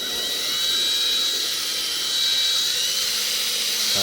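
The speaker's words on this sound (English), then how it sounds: "before we start spinning the drill" A drill spins a polishing pad on a cloudy car headlight with a steady high whine and hiss, close and continuous, with no talking.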